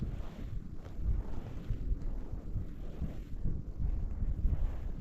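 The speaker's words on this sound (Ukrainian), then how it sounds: "Вітер посилюється знову." Steady wind while perch fishing buffets the microphone with a low, rumbling roar that gusts unevenly and never lets up.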